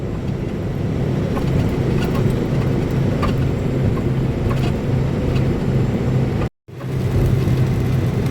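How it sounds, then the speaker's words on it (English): A car cruises down the highway at night, giving a loud, steady close-up rumble of engine and road noise that cuts out for a split second near the end, then resumes. "We still doing some nighttime driving."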